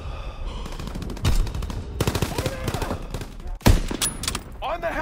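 Rapid machine-gun fire and gunshot bursts in the Call of Duty WWII video game, loud and dense with a couple of heavier blasts, mixed with shouted voices over battle noise.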